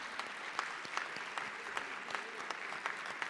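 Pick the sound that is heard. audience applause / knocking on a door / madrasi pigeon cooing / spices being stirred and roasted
audience applause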